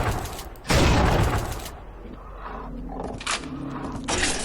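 A sci-fi shard weapon in Unreal II fires concentrated bolts of five shards, heard as a loud burst followed by further sharp blasts and mechanical clatter, with no talk.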